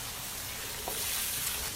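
Sambal sizzles and hisses steadily in a pan during stir-frying, a close, continuous broadband fry with a faint scrape of stirring and no voices.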